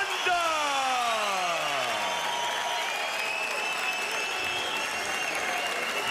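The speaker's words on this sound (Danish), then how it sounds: "Aftens højeste bifald" An MMA event crowd applauding and cheering as a fighter is introduced in the ring, loud sustained applause with a descending sweeping tone passing through early on.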